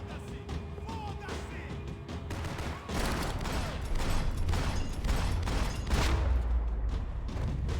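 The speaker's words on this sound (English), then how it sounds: "Now that's how you shoot with two guns" Rapid, dense gunfire from two pistols fired at once in Max Payne 3, a loud continuous fusillade of overlapping shots with booming low end, intensifying after the first few seconds.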